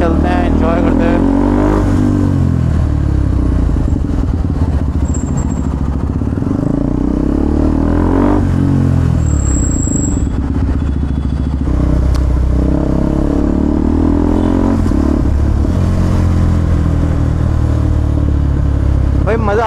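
A KTM Duke 390 Gen 3 fitted with a DNA performance air filter, ridden steadily through city traffic, its engine droning continuously near the mic under someone talking throughout.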